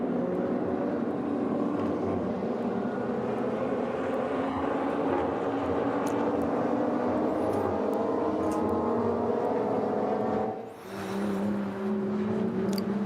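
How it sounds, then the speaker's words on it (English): Racing car engines roar continuously at the Nurburgring circuit during an endurance series race, a dense sustained drone of several cars with shifting pitch, loud and steady with a brief dip near the end, no voices. "So, little pause there as we're just listening to the sounds of real engines, not digital, but real engines there, Bruce."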